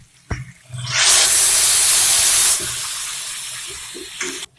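Half a cup of water poured into a hot pan of frying chicken karahi with tomatoes, erupting into a loud, sustained hiss of steam and sizzling that slowly settles into a softer bubbling fizz.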